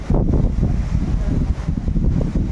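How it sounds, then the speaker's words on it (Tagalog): Strong wind buffets the microphone in a steady, loud, low roar that gusts throughout with no clear pauses. "Lakas ng hangin guys"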